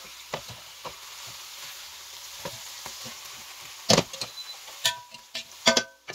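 Chicken pieces fry gently in a pan on low heat for a honey, eucalyptus and cranberry dish, giving a steady soft sizzle with scattered clicks and a few louder utensil knocks near the end.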